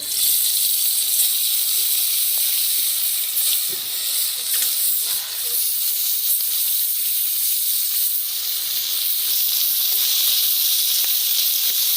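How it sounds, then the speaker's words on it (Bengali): Fish frying in hot oil in a wok, giving a loud, steady sizzle and hiss that runs the whole time with small crackling bursts. "তেল তো চটপট চটপট করছে এই যে মাছ দিয়ে দিচ্ছে"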